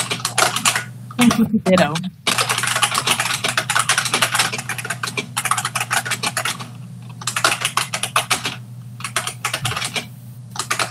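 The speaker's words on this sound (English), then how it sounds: "I don't know who's typing" Rapid keystrokes from a computer keyboard clatter steadily at close range through most of the stretch during an online committee meeting, with brief pauses and a short burst of speech near the start.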